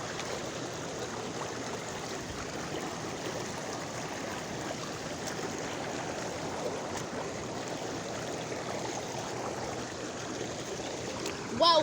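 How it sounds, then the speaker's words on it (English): Floodwater bubbling and trickling up from a drainage pipe under a road, a steady, soft watery wash running for the whole stretch, with a brief louder bump at the very end. "See where it's bubbling up right there?"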